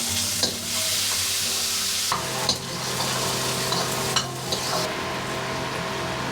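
Chopped onion and tomato frying on high flame in a pan, a steady loud sizzle broken by several sharp scraping stirs of the spatula, close up with no talk.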